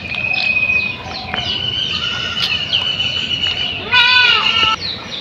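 A pregnant goat on a farm bleats in several wavering calls, close and fairly loud, with a strong cry near the end over a rough background hum.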